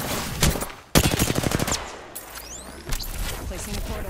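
Gunfire from a Season 10 battle-royale video game: bursts of rapid automatic shots crackle loudly, a sharp volley followed by a dense rattling string, then scattered hits and a whooshing sweep.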